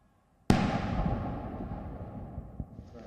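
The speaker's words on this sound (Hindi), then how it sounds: "इसके बाद परंपरा के मुताबिक तोपों की सलामी दी गई।" A single booming cannon shot from a ceremonial gun salute at Hyde Park, London, with a sharp report followed by a long rolling echo that fades over several seconds.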